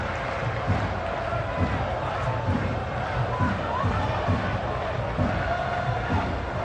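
A large football crowd at a 1997-98 Premier League match between Manchester United and Sheffield Wednesday roars and chants steadily, urging United on, a dense distant wall of voices with a commentator talking over it.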